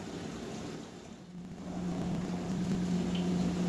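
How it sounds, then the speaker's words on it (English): A dishwasher runs with a low, steady mechanical hum and muffled sloshing wash, growing a little louder midway and settling into a constant drone in the background. "sorry for the dishwasher noise in the background."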